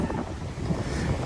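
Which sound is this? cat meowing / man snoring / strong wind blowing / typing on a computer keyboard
strong wind blowing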